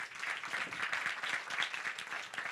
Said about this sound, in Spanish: Yo quiero pedir un aplauso para todos los panelistas